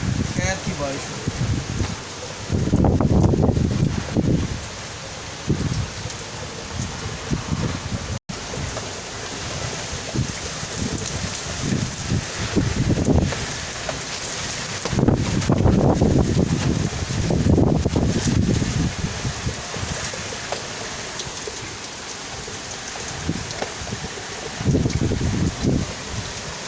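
Heavy storm rain pours steadily while gusts of wind roar in surges several times, loud and close, and someone talks at intervals through the downpour.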